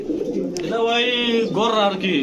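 Pigeons coo at a pigeon shop, a close, loud, continuous throaty warbling with rising and falling tones, and a voice may be mixed in with the calls.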